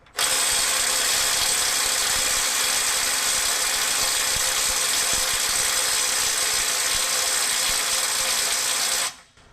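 A Milwaukee M12 FUEL impact driver hammers continuously on a bolt rated at 250 foot-pounds that will not break loose, a loud, rapid, close rattle held for about nine seconds before cutting off.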